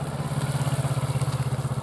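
A motorcycle engine runs with a steady low pulsing throb, near and moderately loud, during a riding lesson on leaning and U-turns. No one speaks.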